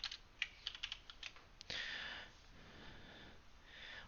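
Quiet typing on a computer keyboard: a quick run of light, irregular key clicks, followed by a faint rustle and soft breathing in a calm room.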